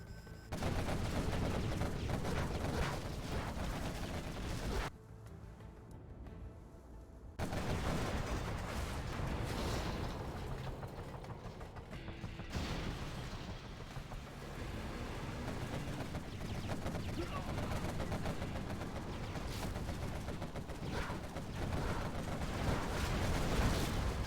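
Sustained gunship fire from a Spectre in the real-time strategy game Generals Zero Hour, a dense, continuous barrage of rapid shots and blasts under a thick game soundscape, briefly dropping away before resuming at full loudness.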